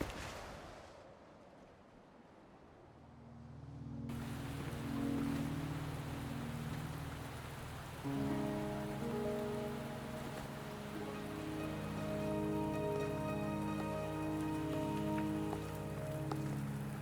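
Steady rain patters on a surface in the video game Wuthering Waves, while a low droning tone and a gentle melody play underneath throughout.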